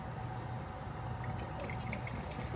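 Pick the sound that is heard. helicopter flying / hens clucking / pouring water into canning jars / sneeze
pouring water into canning jars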